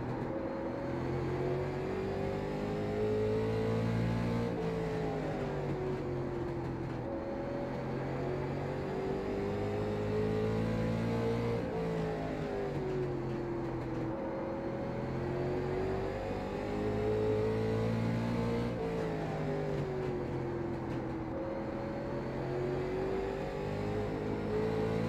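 Late model race car engine in the iRacing sim at Lanier, droning steadily and loud throughout with rising and falling pitch as it sweeps through corners, skidding near the end of a race.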